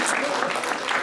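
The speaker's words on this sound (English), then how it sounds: "give him a round of applause" A brief burst of dense clapping from a small lecture audience, loud and close, lasting about a second.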